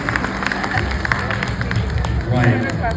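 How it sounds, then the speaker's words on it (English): An audience applauds for Dr. Anurag Majumdar at a fashion week event in a hotel, with a steady patter of clapping and crowd murmur lasting throughout, fairly close and even in level. "now let's give him a round of applause"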